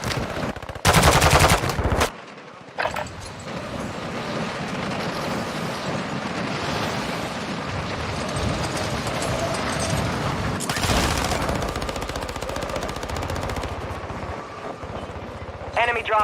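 In the video game Warzone 2, loud gunfire rattles in an automatic burst near the start, followed by a dense, continuous bed of combat noise and machinery. A voice speaks over the action, and a second short burst of fire comes later.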